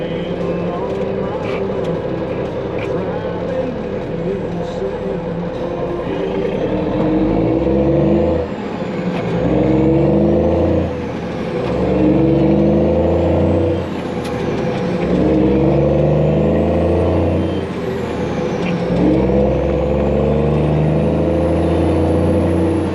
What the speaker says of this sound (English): I got a truck coming